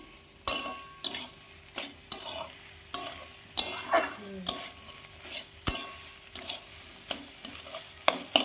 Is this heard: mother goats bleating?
no